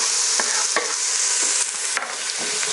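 Onions and chilies fry in a pan for a Gujarati-style butterbean and peanut curry, a steady bright sizzle broken by several scraping stirs of a utensil, close and continuous with no talking.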